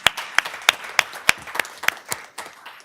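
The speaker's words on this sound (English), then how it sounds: "I do want to give him just one more round of applause" A short round of applause at an evening board business meeting: about ten evenly spaced, crisp claps, close and distinct, no talk over them.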